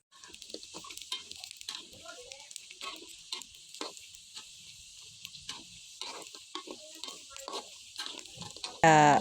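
Pork fat frying in hot oil to make pork cracklings, a steady crackling sizzle with scattered pops and clicks running throughout, rising to a louder burst of sizzling at the very end.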